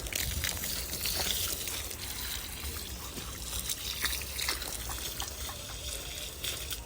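Water poured to soak brick walls at a home building site, a steady close splashing and trickling stream that runs throughout, with no talk.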